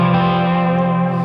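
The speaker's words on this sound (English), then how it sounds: "With some Echoplex. That's actually Memory Man. At like 500 milliseconds." An electric guitar plays a sustained, distorted chord through a Memory Man delay pedal set to about 500 milliseconds, so the loud tone rings steadily with a smeared, echoing tail.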